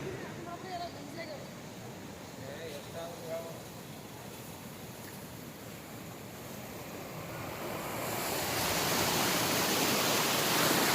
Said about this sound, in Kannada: ನೋಡಿ ಎಷ್ಟೊಂದು ರಭಸವಾಗಿ ನೀರಿನ ಸ್ಪೀಡು ನೋಡ್ತಿರೋ ದೃಶ್ಯಗಳಲ್ಲಿ